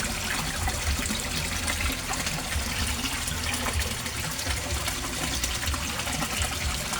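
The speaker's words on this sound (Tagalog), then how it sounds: "Ang itong submersible pump ko, ang lakas guys." A submersible pump pushes a strong, steady rush of water through a murky koi pond, making a continuous close splashing and gurgling wash that never lets up.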